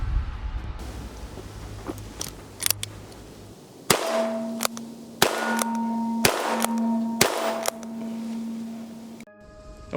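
Single-action .22 LR revolver shots at an outdoor range, several sharp cracks in a slow, evenly spaced series, each ringing briefly with a metallic tone after the report.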